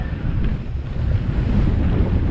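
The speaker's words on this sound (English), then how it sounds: "and it's windy." Steady wind buffeting the microphone on a mountain bike enduro trail, a loud low rumble that rushes continuously with no voices.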